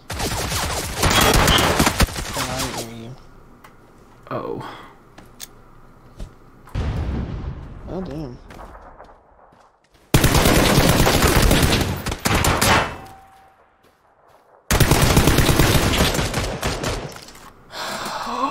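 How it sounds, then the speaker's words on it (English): Bursts of rapid gunfire from a video game, several loud dense volleys separated by quieter gaps, with brief scattered sounds between them and no clear talk. "where else are you getting shot from?"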